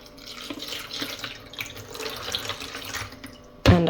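Tap water runs steadily into a cooking pot for noodles in a home kitchen, a soft continuous splashing and trickling, ending with a sharp louder clatter.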